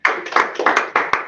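A small audience at a public board meeting claps briefly: a quick, close burst of a few sharp hand claps lasting just over a second.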